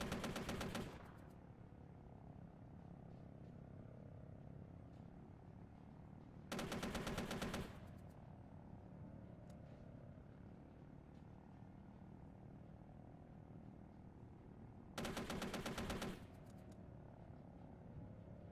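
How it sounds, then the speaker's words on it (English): Apache helicopter cannon fire in ArmA 3 comes in three short rapid bursts a few seconds apart, loud, against a steady low rotor and engine drone. "Gunner's opening up with cannon."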